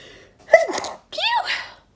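A single close sneeze, brought on by a powdered face mask and scrub being unboxed, with a sharp gasping intake followed by a second burst, loud and alone.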